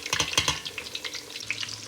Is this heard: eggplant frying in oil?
yes